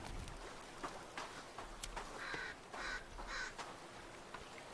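A crow in The Forest video game giving several hoarse caws in a row over faint background ambience, with no talking.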